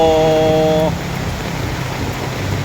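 Heavy rain from a passing storm falls steadily as a broad, close hiss, preceded at the start by a brief tonal hum that fades out after under a second.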